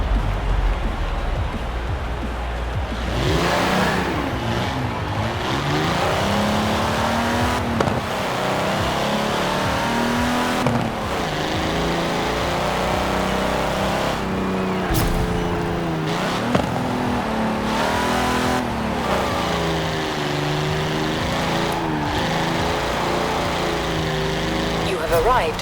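A 1952 Hudson Hornet RWD drift build in Forza Horizon 4, its engine droning and revving steadily with repeated gear changes and pops throughout, loud and continuous with a voice occasionally over it.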